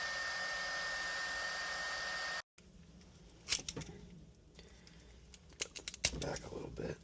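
A heat gun blows a steady, loud whooshing stream of hot air while trying to shrink heat shrink tubing on wiring for a TL8 light bar install, then cuts out abruptly and gives way to scattered handling clicks and rustles.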